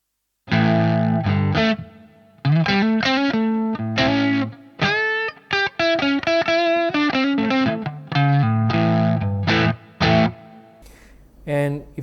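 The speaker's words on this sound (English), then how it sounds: "If you turn it all the way down, you get kind of like almost an overdriven kind of tone." Electric guitar through a BOSS FZ-1W fuzz pedal with the control turned all the way down, giving a mildly overdriven tone; loud, close riffing in choppy bursts of chords and single notes, with brief gaps between phrases.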